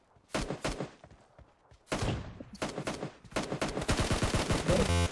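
Gunfire in a team deathmatch shooter, with several loud, close bursts of rapid automatic fire separated by short pauses and then a longer continuous volley.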